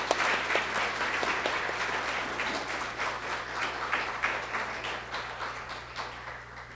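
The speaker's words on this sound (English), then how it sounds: "Let's give them one big more round of applause here." Warm audience applause after a dance performance at a university exhibit event, a dense, fairly close patter of many hands clapping that stays strong for several seconds and gradually tapers, over a low steady hum.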